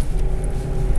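1995 Suburban engine running and surging on its own, a low, steady rumble with a rough, uneven throb heard from inside the truck, brief and fairly loud, with no talking.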